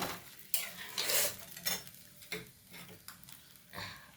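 Spice paste with oil and water is stirred in a pan: irregular, fairly faint scraping strokes with a light sizzle between them.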